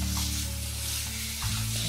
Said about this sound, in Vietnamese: Rồi mình xào cho phần tôm thịt này săn lại.